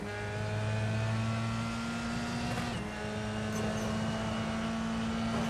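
F3 race car engine heard from the in-car view in a racing video game at the Detroit Grand Prix on Belle Isle, a loud, steady high drone with one quick dip and shift in pitch near the middle.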